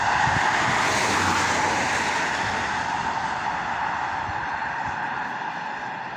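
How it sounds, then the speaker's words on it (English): Road traffic rushes past near a Selby to Leeds turnpike route, a loud steady roar of passing vehicles that swells and slowly fades. "Watch the traffic go by."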